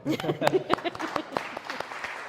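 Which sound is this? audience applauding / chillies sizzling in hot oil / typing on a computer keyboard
audience applauding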